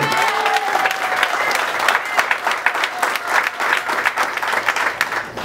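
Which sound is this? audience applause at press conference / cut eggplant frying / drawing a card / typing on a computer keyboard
audience applause at press conference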